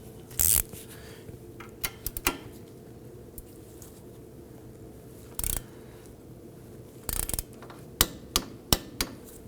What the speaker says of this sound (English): Go ahead and torque that down to 46 foot-pounds